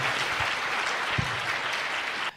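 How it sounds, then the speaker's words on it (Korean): A church congregation claps together after a closing prayer at a morning prayer meeting, a steady dense wash of applause that holds level and then stops abruptly near the end. "우리 하나님께 영광의 박수 올려드리시죠."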